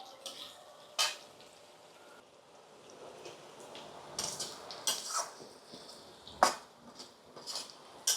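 Potatoes and onions fry in a pan with a soft, continuous sizzle, broken by occasional sharp clinks and scrapes of a utensil against the metal.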